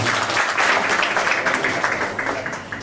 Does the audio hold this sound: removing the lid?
no